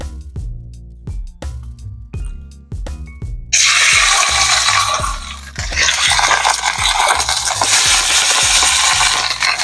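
Tap water gushing loudly into a sink in a home kitchen during cooking, starting after a few seconds of rhythmic clatter and continuing steadily as a broad, dense rush to the end.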